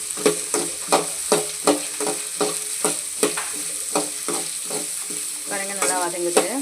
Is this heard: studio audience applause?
no